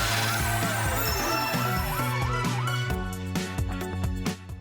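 A police car siren wails in rising and falling sweeps, loud and close, running continuously with no talk over it.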